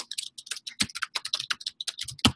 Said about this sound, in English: I'm going to type this over here in this browser